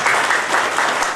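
A hall audience at a Telangana finance commission review meeting breaks into loud, close applause to welcome the chairman, Sirisilla Rajaiah; a brief, dense burst of clapping with no voices over it.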